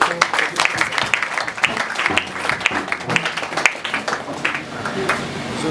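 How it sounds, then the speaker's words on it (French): A church congregation applauds during a Sunday service on a mission trip in the DR Congo. The clapping is dense and sustained, fairly loud and close, with voices mixed into the crowd noise. "On applaudit. Le Seigneur."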